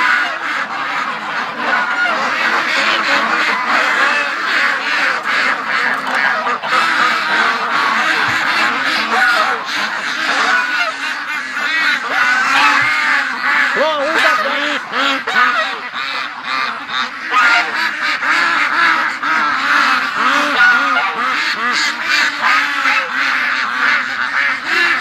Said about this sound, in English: Oh, listen to the duckies. They were so loud this morning.